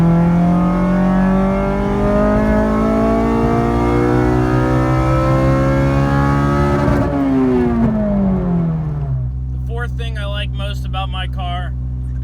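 8th-generation Honda Civic Si engine revving loudly and climbing steadily in pitch toward redline, then dropping back sharply to idle, close and unaccompanied by talk.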